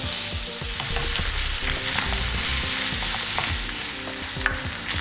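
Minced meat sizzling in a pan for bolognese sauce while a spoon keeps stirring it, making dense continuous frying noise with rhythmic scraping strokes, close up, no voices.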